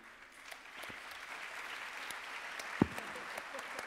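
Soft, fairly distant audience applause at a panel discussion during a tech innovation conference, a steady patter of clapping with a sharp clap or knock standing out near the end.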